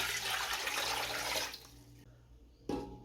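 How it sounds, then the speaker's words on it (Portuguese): A liter of water poured into a pan to make meat croquette dough gives a steady splashing gush for about a second and a half, then it stops and a short clunk follows. "Vou colocar aqui 1 litro de água"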